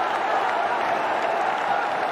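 A cricket crowd at a one-day international in Bangladesh applauds a batsman reaching fifty, with steady, moderately distant clapping and crowd noise throughout.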